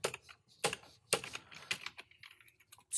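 Quick bursts of computer keyboard typing while filling in a PDF form, with clustered keystrokes and short pauses, close and fairly quiet with no one talking.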